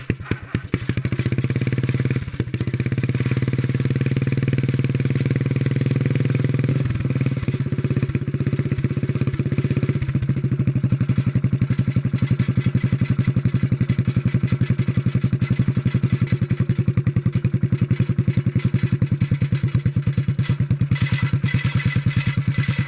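A 1957 Bolens tractor's small engine runs steadily and loudly throughout, a continuous rattling putter with a mechanical clatter, its tone shifting slightly partway through as the belt engages, without talk.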